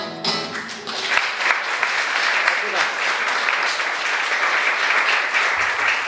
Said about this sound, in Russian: Провожаем аплодисментами